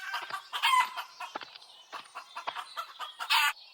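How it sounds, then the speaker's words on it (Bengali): Chickens on a farm cluck and squawk in short, irregular bursts, several birds calling close by with brief gaps between calls and no talk over them. "তোমার খামারে তো দেখছি অনেক মুরগি।"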